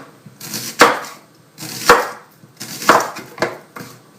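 A knife cuts an onion into rings on a board for an endive tartiflette: four crisp, close chops at an uneven pace, with quiet gaps between them and no voices.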